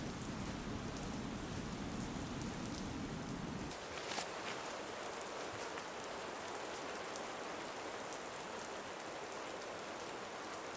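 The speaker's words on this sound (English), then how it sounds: "It's raining again, so back to the umbrella." Steady rain on an Arctic hiking trail in northern Scandinavia, a dense continuous hiss close by with a heavier low patter in the first few seconds, no voices.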